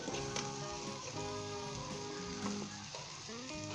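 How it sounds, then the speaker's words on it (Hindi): Scrambled eggs and tomatoes sizzle steadily in a hot pan over high heat while being stirred, with a continuous close frying hiss and occasional utensil scrapes throughout. "2 से 3 मिनट हम इसे तेज़ आंच के ऊपर हम स्टर करेंगे"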